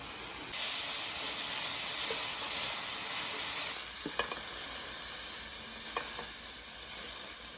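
Marinated meat frying in sesame oil in a pan, a loud bright sizzle that suddenly drops to a softer hiss, with a few light stirring clicks afterward.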